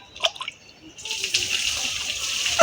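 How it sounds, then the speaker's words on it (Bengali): Water spills over the edge of a completely full swimming pool, starting with a few faint drips before turning into a steady, close rush of splashing water. "পানি পড়ে যাচ্ছে, যার কারণ হচ্ছে যেটা পুরো সম্পূর্ণ ভরে গেছে, এই কারণে পানি পড়ে যাচ্ছে।"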